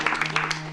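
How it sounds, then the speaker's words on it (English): Crowd clapping for the cast and crew at a Lost 100th-episode celebration, a brief burst of dense applause with a steady hum beneath and voices mixed in. "So clap for the whole crew and cast"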